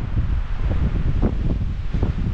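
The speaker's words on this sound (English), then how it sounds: "It's still windy now," Strong wind blows outside a remote cabin after a night windstorm, a loud, low buffeting roar with gusty surges and rustling, close to the microphone and without voices.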